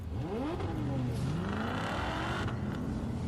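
Racing cars in a video game street race rev and whine past nearby, with engine pitch sweeping up and down as they accelerate. A voice talks over part of it.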